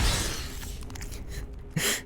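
Enemy shattered to pieces by a barbarian's smash in Diablo 3, a brief crunching, breaking burst up front with scattered debris clatter after and a second sharp crash near the end.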